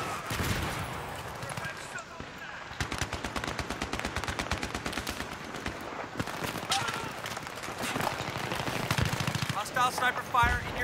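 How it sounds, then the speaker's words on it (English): Gunfire crackles in Battlefield 3 team deathmatch on the Canals map, with hostile sniper fire among dense, rapid bursts that run almost without pause, while a voice talks over the shooting. "Hostile sniper fire in your area."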